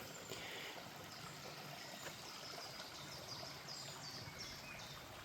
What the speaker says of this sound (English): the sound of running water is really quite peaceful down here